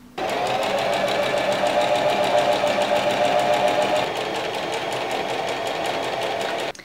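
A sewing machine runs steadily and close, its rapid needle chatter stitching a folded fabric tunnel for elastic on an oversized men's shirt being remade into a dress; it runs for about six seconds, then stops abruptly, with no voices.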